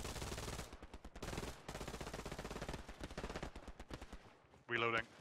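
Rapid machine-gun bursts in Hell Let Loose sound as a steady, rhythmic stream of shots that fades briefly before a short, sharp blast at the end.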